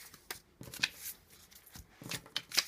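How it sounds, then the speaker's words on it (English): Playing cards get mixed up by hand in several quiet, close bursts of riffling and flicking, separated by short pauses, with no one talking. "And so then what you can do is mix up the cards"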